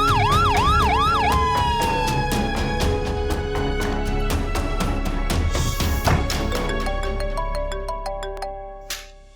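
An ambulance siren wails loudly and close, its rising and falling tone giving way to rapid repeated electronic pulses before tapering off at the end, with no talking over it.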